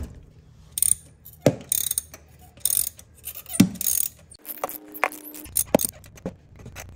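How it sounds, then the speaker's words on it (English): Ratchet with a spark plug socket loosening a spark plug on a third-generation Toyota Tacoma, close rapid clicking bursts of the pawl in short repeated strokes, with metallic scrapes and clunks between them. "Loosen the spark plug."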